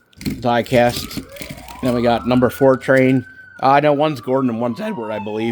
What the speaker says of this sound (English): Sorry about the sirens. I should have probably kept the window closed.